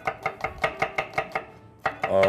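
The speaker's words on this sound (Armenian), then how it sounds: "Ես կկտրատեմ սոխը" An onion is chopped with a knife on a board in a quick, even run of about nine crisp close thuds, followed after a brief pause by a couple more cuts and a scraping sound.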